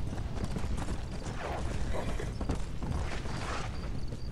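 A horse gallops in the video game Red Dead Redemption: Undead Nightmare, with a continuous, rapid drumming of hooves mixed with creaking tack, steady and moderately loud throughout.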